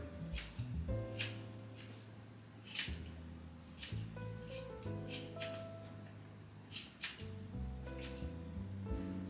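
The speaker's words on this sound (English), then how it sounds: "just snipping away, hoping I'm cutting hair" Scissors snipping hair during a home haircut give repeated quiet, crisp snips at an irregular pace, close by, over a soft tonal background.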